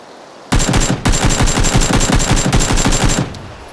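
Loud, rapid automatic gunfire rattles out in PUBG, a dense unbroken burst of shots lasting about three seconds with a short gap near the start.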